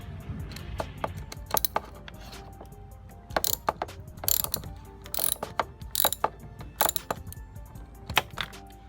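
A ratchet loosens the positive terminal nut on the battery of a Lincoln MKZ with a four-cylinder EcoBoost, giving close, rapid clicking bursts in uneven spurts with short pauses between strokes.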